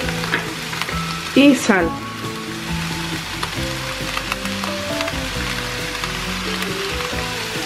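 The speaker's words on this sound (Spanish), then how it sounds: "Seguimos rehogando nuestras verduras." Mixed vegetables including broccoli sauté in a pan for a homemade vegetable tortilla, giving a continuous bright sizzle with stirring clatter and a brief louder burst early on, while a voice speaks briefly.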